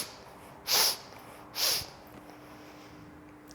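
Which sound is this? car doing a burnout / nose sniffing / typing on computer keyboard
nose sniffing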